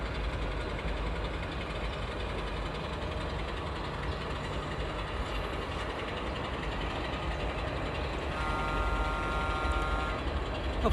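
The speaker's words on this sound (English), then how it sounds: "Hopefully you can hear that train going by." A continuous low rumble of a passing freight train with a caboose and boxcar, steady and somewhat distant, with a faint tonal squeal near the end.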